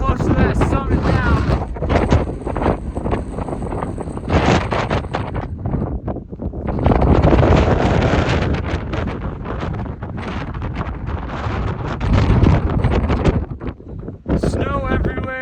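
Brutal wind tears across the snowy summit of Mount Bierstadt, a 14,000-foot peak, in loud, gusting roars that buffet the microphone and briefly ease before surging again.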